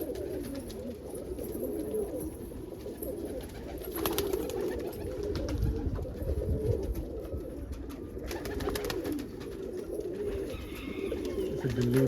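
Roller and homing pigeons coo together in a loft, a dense, continuous low burble of overlapping calls with occasional flutters and rustles.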